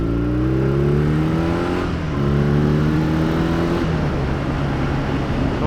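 A 1978 Triumph Bonneville T140V motorcycle engine revs steadily through its exhaust, close and loud, with the pitch rising and easing in clear harmonic sweeps and no talking.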